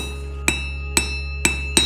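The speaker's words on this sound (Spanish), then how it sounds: "El toque del martillo." Four sharp metallic hammer strikes ring out at a steady pace over a constant low hum as a horseshoe is forged, each blow leaving a bright, brief ring.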